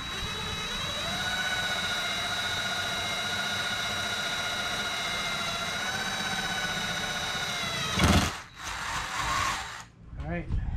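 A power drill spins a 3/16 drill bit, giving a steady whining hum for about eight seconds, then a brief louder bite and stop-start bursts near the end, close by.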